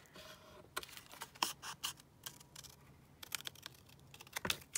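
Quiet, close snips and crisp paper rustles as scissors cut a book page, irregular short cuts in a series with no talking.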